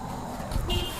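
A short car horn honk sounds briefly over low road rumble and traffic noise.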